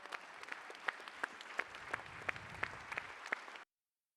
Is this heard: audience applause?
yes